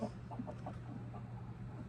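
A docile backyard hen with tail feathers regrowing after her molt gives a string of soft, close clucks over a steady low hum, with no talking.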